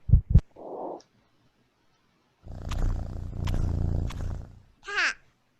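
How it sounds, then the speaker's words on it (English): Cartoon cat sound from a Peekaboo Barn children's animal app, a short growling meow and purr-like roar played through a computer, with brief clicks and a soft voice around it. "Cat."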